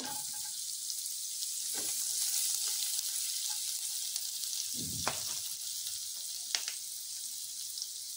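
Chopped garlic fries in a teaspoon of butter in a pan for a clear soup, a steady soft sizzle with a few faint clinks and stirring knocks.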